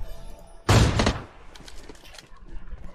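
A single loud gunshot from PUBG Mobile, fired from a gun stuck on single-shot mode in a classic match. It cracks close and sharp, then leaves a scattered tail of softer game noise.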